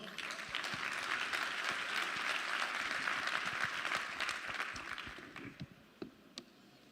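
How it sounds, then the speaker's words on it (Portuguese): A church congregation claps together in a sustained, fairly distant wave of applause that thins out into a few scattered claps at the end. "você pode aplaudir ao Senhor?"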